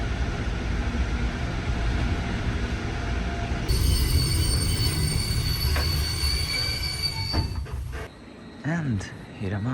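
A train rumbles along the rails, then its wheels squeal in high sustained tones before braking sounds and a brief voice near the end.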